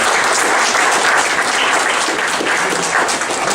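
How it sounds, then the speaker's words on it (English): Steady, dense applause from a large crowd, loud and continuous throughout with no pauses. "A big round of applause for Michael Patrick Leahy."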